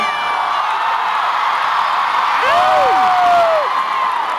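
A concert crowd in a Las Vegas arena roars in a steady, dense wash of cheering, with a few sharp whistles and whoops rising above it midway.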